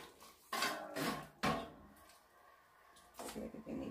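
Faint scraping and clinking as a dye mixture for colouring vinyl tubing is stirred in a pot, in a few brief strokes with quiet moments between them.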